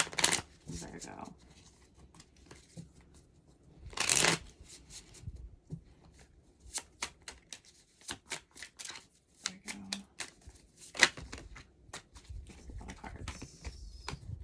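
Tarot cards are shuffled by hand up close in quick, crisp riffling bursts and soft taps, with a person speaking quietly between them.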